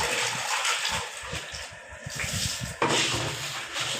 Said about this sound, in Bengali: ডাঁটাগুলো ধুইতেছি, ভালো করে ধুয়ে নিতে হবে।